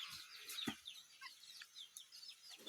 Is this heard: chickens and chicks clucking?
yes